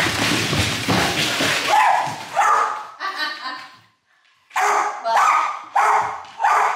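A dog with a raspy, hoarse voice gives a series of close, loud barks and yips, with a short pause midway before several more rough barks follow.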